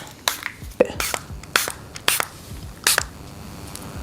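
Several short, breathy bursts from a spray bottle of wig adhesive spray hiss close by, spaced irregularly with brief pauses between them and no talking.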